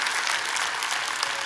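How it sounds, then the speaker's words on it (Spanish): A church congregation claps in a brief, steady burst of applause, evenly dense and fairly loud, with no clear speech over it. "un aplauso al Señor, que se lo merece"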